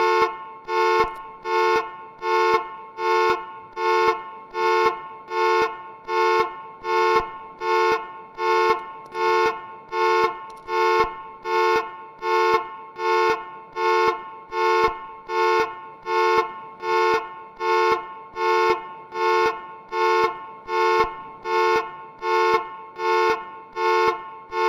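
A generic vehicle alarm in the Stormworks game honks in a fast, regular pulsing pattern, loud and close, with about two dozen identical tones repeating without pause from start to end.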